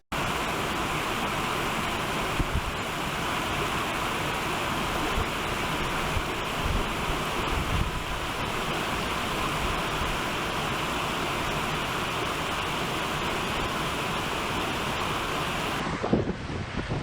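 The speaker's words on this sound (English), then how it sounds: "Really am getting to the top of the waterfall now" A waterfall in Upper Eskdale in the Lake District fells gives a steady, loud rushing roar of falling water, continuous and close, with wind buffeting the microphone.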